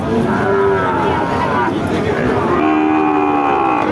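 Pakistani Sahiwal cattle low and moo repeatedly at a winter-morning livestock market in Chougachha, loud and close, with a crowd murmuring underneath.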